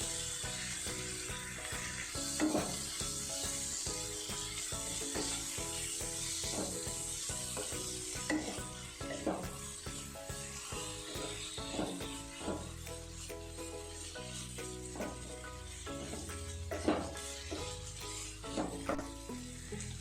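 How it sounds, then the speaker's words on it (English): Chopped tomatoes cook in a pan for egg curry, a steady close sizzle and frying hiss running throughout with scattered scraping stirs and clicks, no talking. "Now let's add the chopped tomatoes into this. Give it a good mix."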